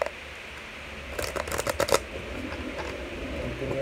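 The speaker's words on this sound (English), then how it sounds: "Give me a little time here while I shuffle." Tarot cards are shuffled by hand in a brief run of crisp riffling clicks lasting under a second, close and moderately loud over a steady background hiss.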